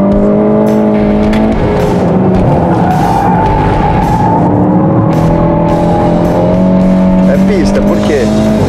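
A Volkswagen Golf GTI with a 220 hp turbo engine is driven hard on a race track, its loud engine note rising and falling through gear changes with tyre squeal, while a person talks over it.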